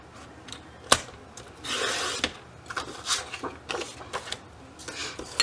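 Canvas cover material being cut to size for a mini scrapbook, with several short rasping, scraping strokes and one longer drawn-out cut, close and fairly quiet, with no talking.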